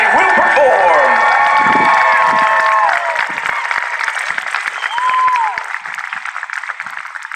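Crowd at the Sea and Sky Spectacular 2019 air show cheers, whistles and applauds a drill team, with shouts and whoops over dense clapping that gradually thins and quiets.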